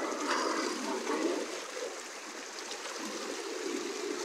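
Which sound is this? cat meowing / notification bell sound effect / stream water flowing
stream water flowing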